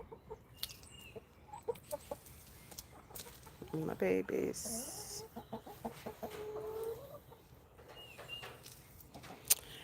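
Backyard chickens clucking close by, nice-sized birds giving scattered short clucks and a few louder squawks in the middle, while a person talks softly to them.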